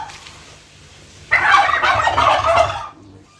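A female bronze turkey gives a loud, close burst of rapid gobbling calls lasting about a second and a half, with quieter farmyard noise before and after.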